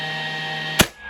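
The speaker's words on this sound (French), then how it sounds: "si je veux clouer, tu vas entendre que lorsque je vais enfoncer la gâchette, eh bien le moteur va se mettre en route" A DeWalt DCN680 cordless nailer fires a 15 mm nail with a single sharp, loud crack over a steady whirring motor hum, followed by a brief drop into near silence.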